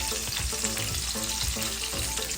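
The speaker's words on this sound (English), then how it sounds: "it's almost deep frying its own fat, which is pretty cool." An A5 wagyu ribeye steak sears in a pan, sizzling and spattering loudly as it fries in its own rendering fat, a dense, continuous crackle with no voices.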